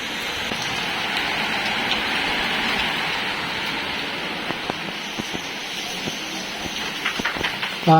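Steady rain hisses outside, a broad continuous wash with scattered drips and taps, with faint voices briefly near the end.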